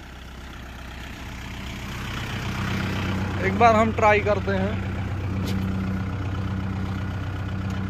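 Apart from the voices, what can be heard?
Kubota 4501 tractor engine running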